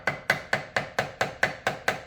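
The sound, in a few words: brass hammer tapping on shock body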